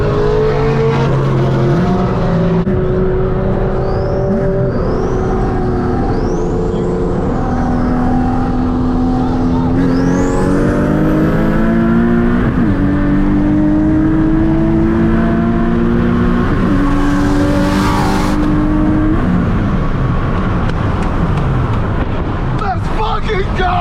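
Nissan 370Z racing a G37 at FL2K 2024, loud engine revving up through repeated gear changes with rising and falling pitch, tire and wind noise, and a voice speaking over it.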